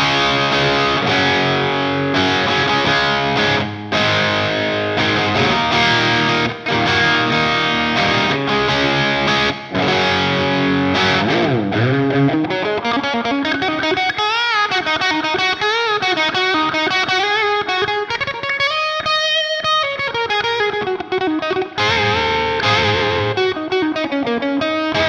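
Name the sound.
guitar amp plugin, clean channel with aggression button, overdriven breakup tone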